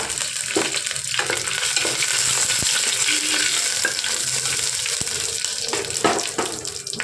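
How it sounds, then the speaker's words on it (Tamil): A halved green chili fries in a pan for varagu (kodo millet) tomato rice. A steady, close sizzle carries a few stirring clicks and scrapes, and no one speaks. "ஒரு பச்சை மிளகாய் எடுத்து ரெண்டாக கட் பண்ணி வச்சுருக்கேன் அதை இதோட ஆட் பண்ணிக்கலாம்"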